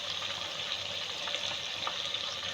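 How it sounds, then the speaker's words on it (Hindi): Meat frying in a pan as spices are added, a faint, steady sizzle with light crackling texture and no clear stirring strokes. "गोश्त अच्छे से भुन गया है और अब मैं शामिल कर रही हूँ इसमें मसाले"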